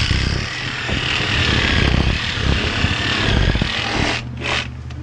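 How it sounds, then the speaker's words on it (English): A reciprocating saw cuts through a whitetail buck skull, giving a loud, continuous buzzing rasp close by that runs steadily for about four seconds before stopping, followed by a short scrape. "This is where the sawzall comes in."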